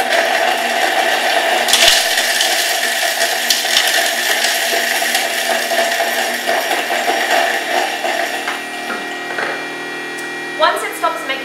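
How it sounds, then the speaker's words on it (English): A Thermomix kitchen machine runs with its blades whirring at speed 7 for butter chicken, a loud steady grinding whir that eases slightly toward the end, with a few knocks and clinks. "turn your Thermomix on and set the blades running at speed 7"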